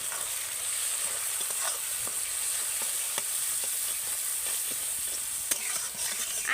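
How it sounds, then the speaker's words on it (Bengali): Ground spice masala for an okra (bhindi) curry, with cumin powder and garam masala, frying in hot oil and being stirred, a steady close sizzle with repeated scraping strokes of the spoon and no talking. "এই সমস্ত গুঁড়ো মশলা দেওয়ার পরে কিন্তু আবারও ভালো করে আমি মশলাটাকে কষিয়ে নেব"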